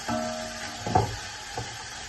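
Whole garam masala spices browning in a pot for mutton yakhni pulao, giving a low steady sizzle with a couple of soft stirring scrapes and a light knock.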